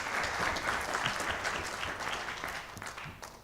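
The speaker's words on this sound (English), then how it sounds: "A big round of applause." Steady applause from an audience at a judged presentation event, a dense patter of clapping at moderate volume throughout.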